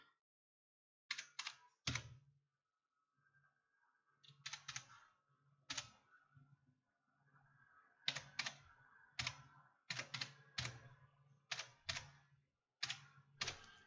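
Someone types a password on a computer keyboard to log in to a take-home university exam. Soft, close keystrokes come in irregular clusters with quiet gaps between them.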